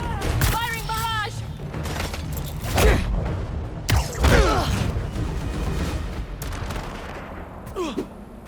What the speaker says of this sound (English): Firing barrage!